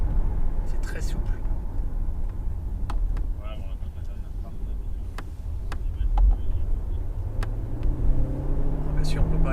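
A DS7 Crossback E-Tense 4x4 hybrid prototype pulls away, producing a steady low cabin rumble that swells as it accelerates smoothly, with a voice talking over it inside the car.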